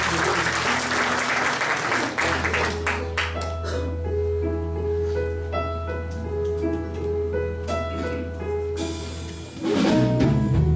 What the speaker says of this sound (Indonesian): tepuk tangan yang meriah untuk Tuhan kita Yesus